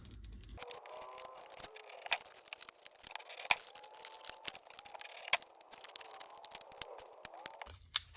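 Wood veneer for a handmade fingerboard cut with a sharp tool, a quiet run of crisp snips, scrapes and small ticks spread unevenly over several seconds, close up and with no talk.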